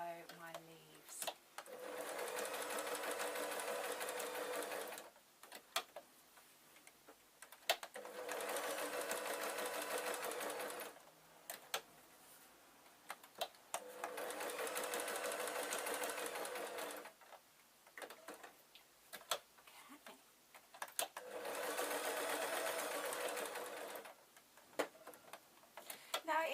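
A sewing machine stitches fabric leaves onto a pincushion in four long steady whirring runs, close and even, with quiet pauses and small handling clicks between them.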